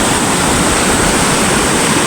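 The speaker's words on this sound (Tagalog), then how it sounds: "Ang lakas pa ng tubig na yan oh." A strong river current rushes in a loud, unbroken roar of churning water close by, with no voices.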